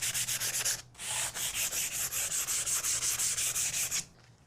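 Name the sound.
sanding wooden dowel rod with sandpaper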